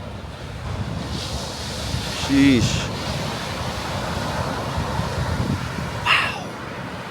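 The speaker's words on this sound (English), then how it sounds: "down there, the waves are really smashing into the shoreline" Hurricane surf crashes onto a shoreline in a continuous roaring wash, heavy wind noise buffeting the microphone, with a brief spoken exclamation over it.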